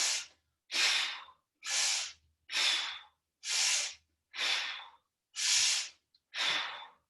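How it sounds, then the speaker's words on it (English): Eight deep, vigorous breaths during an exercise workout, each a loud, airy rush lasting about half a second, evenly spaced in a steady rhythm, close to the listener with brief silences between and no talking. "we'll do our 5 deep, vigorous breaths"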